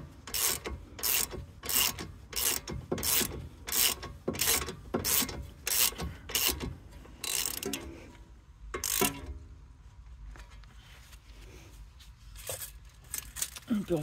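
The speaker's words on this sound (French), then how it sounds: "Une petite clé à cliquer avec du 17," A ratchet wrench with a 17 mm socket turns on a Jeep Renegade during steering ball joint work, clicking in a quick, even run of strokes up close, then slowing to a few scattered clicks, with some talking.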